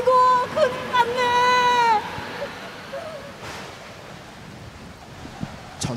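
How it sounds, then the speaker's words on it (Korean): A strong wind sound effect from a children's drama about a storm at sea, heard as a steady, airy roar. It starts under wailing, crying voices, then continues alone at a moderate level. "큰 바람이 불잖아."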